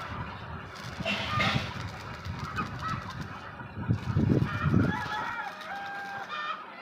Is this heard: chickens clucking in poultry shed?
yes